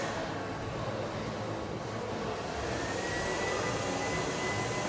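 Air blown steadily over a pressure-reactive garment with fins, producing a continuous loud, close rushing whoosh that holds for several seconds without a break.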